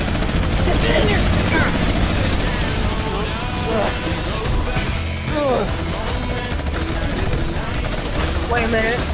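Gunfire in a Fortnite short film crackles in a dense, continuous barrage beneath a droning, helicopter-like roar, with voices shouting over the loud battle.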